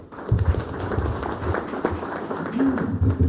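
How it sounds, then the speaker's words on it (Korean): Applause from an audience welcoming a columnist to the microphone at a political forum on an election defeat, scattered clapping at moderate volume with uneven bursts and low murmuring underneath. "큰 박수로 환영해 주십시오."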